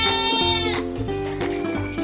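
Female goats penned together for fattening bleat loudly and repeatedly, several overlapping wavering cries close by with steady farmyard noise beneath.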